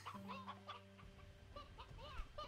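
Chickens in the video game Slime Rancher 2 cluck in quick, repeated bursts over a low electronic drone and game background tones, moderately quiet with no speech.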